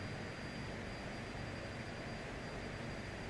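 Embraer EMB-110 Bandeirante twin turboprop engines in a flight simulator, a steady, dense whine and rumble droning evenly without a break.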